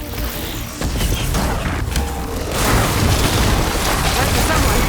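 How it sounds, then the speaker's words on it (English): Glowing crystals detonating in Horizon Forbidden West's Burning Shores DLC, heard as heavy booming bursts and rumbling crashes that swell louder toward the end, full and close, with game voices mixed in. "See those glowing crystals? Takes one hit to detonate."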